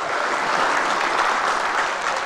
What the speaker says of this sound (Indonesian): Kita berikan tepuk tangan yang meriah, Bapak Ibu.